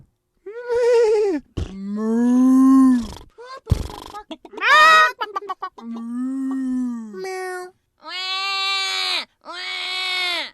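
A string of drawn-out, wavering, meow-like cries, one after another with short gaps, loud and close.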